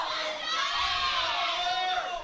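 A crowd at a high school powerlifting meet cheers and shouts for a lifter attempting 285 kilos, a loud sustained roar of voices throughout.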